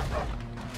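A dog in the video game Red Dead Redemption 2 gives a single short, close bark with a yelping edge.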